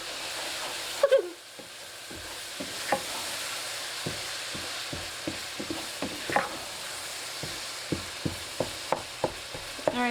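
Onion and garlic cooking down in a pan, a gentle continuous sizzle broken by a run of crisp, evenly spaced scraping taps from a utensil stirring.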